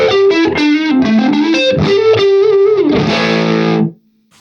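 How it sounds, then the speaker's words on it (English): Electric guitar played through an Orange compressor pedal driven into clipping so it behaves like an overdrive, giving a gritty, distorted tone as a melodic phrase ends on a sustained chord, loud and close, then cut off. "even though that is a compressor, it kind of does act like an overdrive"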